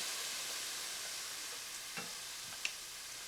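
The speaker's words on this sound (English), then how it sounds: "Scraping the bottom of the pan." A utensil scrapes the bottom of a hot pan while cooking with wine, soft sizzling throughout with a few faint scrapes and small clinks, fairly quiet and without talk.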